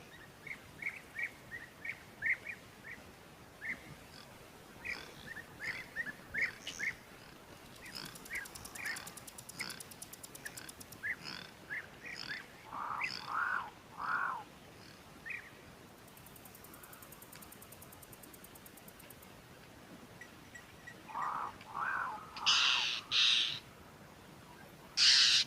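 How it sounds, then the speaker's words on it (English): Pied crows or ravens calling at an African waterhole, repeated harsh caws in irregular bursts, some distant and faint, others nearer and louder toward the end, over quiet outdoor ambience. "So those pied crows or the ravens that are making all the noise that we're hearing at the moment"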